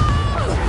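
A Confringo blasting spell is cast in the video game Hogwarts Legacy, giving a short, loud crash with a falling whistle-like streak over dense low rumble.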